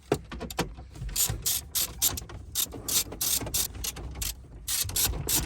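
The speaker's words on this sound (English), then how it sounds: "you need to get your E10 socket, take the 4 bolts off" A ratchet removes E10 screws from the gear selector of a Vauxhall Zafira B, giving rapid, close clicking bursts in an irregular rhythm with short pauses between strokes.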